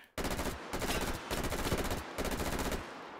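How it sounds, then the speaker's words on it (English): Rapid automatic gunfire in the virtual reality shooter H3VR, three loud close bursts of fast repeating shots separated by brief gaps, with no talking over them. "Those are some fast bullets."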